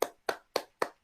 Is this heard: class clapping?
yes